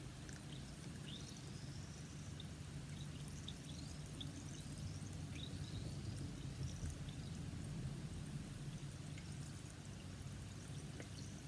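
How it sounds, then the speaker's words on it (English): A chemical concoction bubbling steadily in a container, a continuous watery fizz and gurgle with small popping bursts, sustained at an even, moderate level throughout with no talking. "Still bubbling pretty good."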